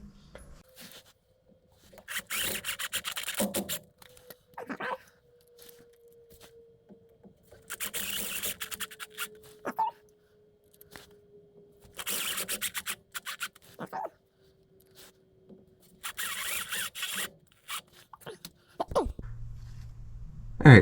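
Screws are driven into a GM rear differential pinion seal in four separate, evenly spaced bursts of close, buzzing power-tool whir, with quiet gaps between them.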